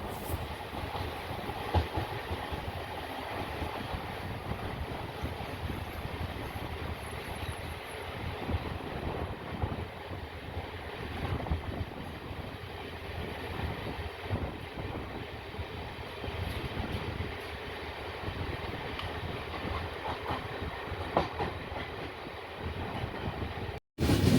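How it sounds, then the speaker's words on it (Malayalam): Express passenger train running towards Thiruvananthapuram Central, a steady low rumble of wheels on rail with wind buffeting, even and continuous throughout, no talk. "ട്രെയിൻ അങ്ങനെ സെൻട്രലിലേക്ക് അടുത്തുകൊണ്ടിരിക്കുകയാണ്"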